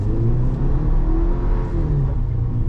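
A 2.7-liter high-output turbocharged Chevrolet Silverado accelerates hard to pass a bus, its engine a steady, loud rumbling drone with rising tone heard from inside the cab, with no talking.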